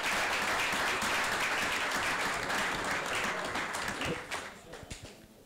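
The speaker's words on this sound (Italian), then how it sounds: "Un applauso per Mattias Puglisi." Applause from a press conference room greets a new football signing joining the team, a steady dense clapping that carries for several seconds before thinning out and fading near the end.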